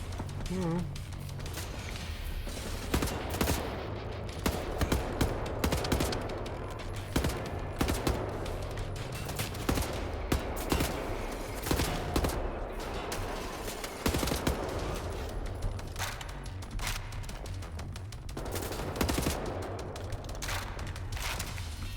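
Turret gunfire in the shooter game Wolfenstein: The New Order, dense rapid bursts of shots running throughout amid a loud busy game mix, with players talking over it.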